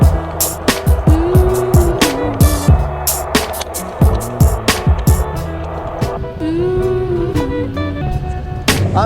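An electric Onewheel board rolling along a road, its motor whining and wheel rumbling close by, with several sharp clacks and bumps and traffic passing around it; a voice speaks briefly at moments.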